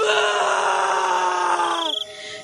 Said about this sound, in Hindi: ऐसा कह के वो पीछे देखता है। उसकी चीख निकल जाती है,